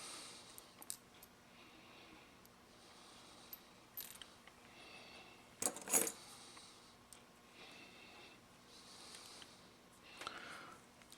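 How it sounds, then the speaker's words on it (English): A small retaining screw is driven back into a disassembled padlock, with quiet metallic ticks and ratcheting clicks from the lock body and screwdriver, plus one sharper clink midway. "Then we'll put the retaining screw back in."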